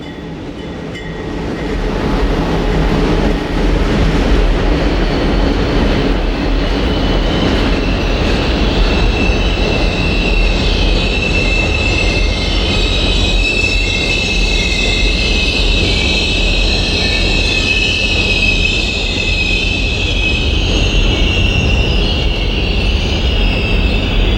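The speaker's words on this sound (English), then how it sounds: "E60 number 608 is in charge of a westbound long-distance train as it pulls into the station on track 6." An Amtrak Crescent led by E60 electric locomotive number 608 rolls into a station on track 6, a loud, close, sustained rumble of wheels on rail with high squealing brakes and steel-on-steel tones building over twenty seconds, no voices.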